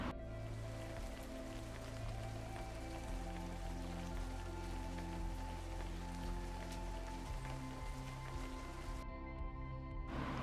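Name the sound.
rain falling outside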